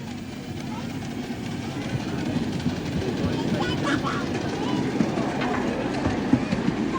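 A steam train runs on the track at a free community rail day in Canterbury, England, giving a steady rumble and rolling noise that builds slightly and carries on throughout.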